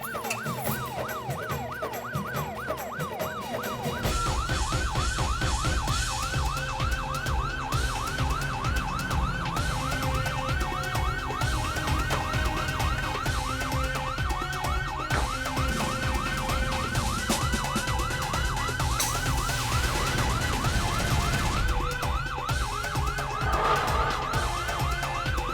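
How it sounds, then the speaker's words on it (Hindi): A police siren wails on a loud, steady up-and-down cycle, rising to full volume after a few seconds with a dense scene of street and vehicle noise beneath it, no talking. "पोपटलाल को लगा है पुलिस का सायरन सुन के।"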